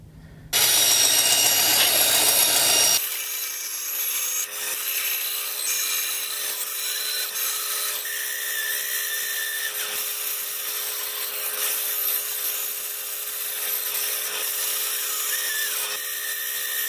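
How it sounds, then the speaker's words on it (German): A hand saw rasps through a piece of wood in a steady, continuous scraping for the whole stretch, close and fairly loud, with a brief heavier burst at the start. "die säge ich jetzt erstmal aus"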